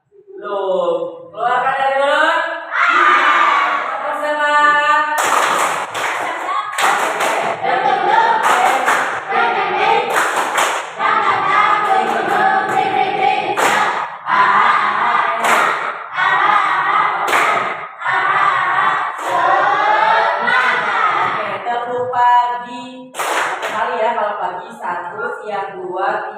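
A group plays a chanted Indonesian clapping game, with hand claps landing in quick rhythmic bursts between loud sung and chanted voices. The claps are sharp and close and repeat in patterned sets under the chanting.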